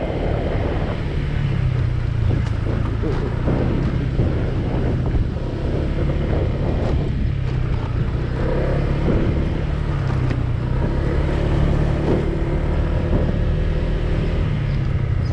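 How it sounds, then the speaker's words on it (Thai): Strong, loud wind buffeting the microphone continuously while riding a 2022 Honda PCX160 scooter, with a low engine drone running underneath throughout and no talking. "ลมแรงจัดนะครับผู้ชม"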